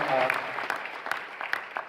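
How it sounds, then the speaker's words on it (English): An audience at a closing conference keynote claps for award winners. The applause is scattered and fairly faint, with separate bursts of claps, and a voice speaks briefly at the start. "how about a big round of applause for those award winners?"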